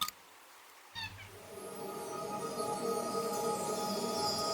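A cat meows in a farming life-sim video game, a single clear meow with rising tonal harmonics just after a brief opening sound, followed by steady game background music, no talk.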